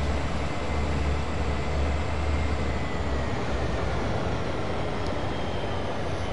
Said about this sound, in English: Oh, I do love the sound of a big diesel train.